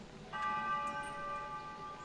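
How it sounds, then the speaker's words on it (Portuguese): Church bell ringing out over a village, a single soft struck tone that rings on and slowly fades, heard faint and far off above quiet background noise. "Suave, distante, claro, o sino."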